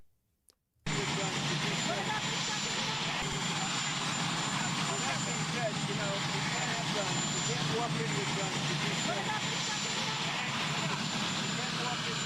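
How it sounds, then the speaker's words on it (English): A plane flies overhead as a steady, loud broadband engine roar that begins abruptly and holds for the rest of the clip, with a brief spoken word at the start. "I'm so sorry about the plane noise"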